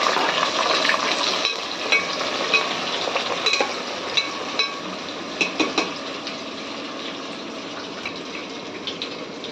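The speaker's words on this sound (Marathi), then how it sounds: "आता कांदा आणि कढीपत्ता टाकतो छानपैकी भाजून घेऊ याला" Onion and curry leaves fried in oil in a pan for chicken biryani, a loud, dense, steady sizzle close up, with a run of sharp spoon taps and stirring clicks through the middle.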